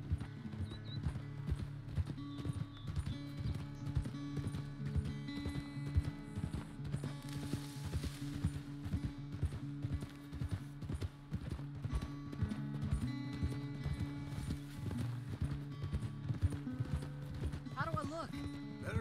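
Rhythmic clip-clop of a horse galloping in Red Dead Redemption 2, steady hoofbeats over game music with a brief whinny near the end.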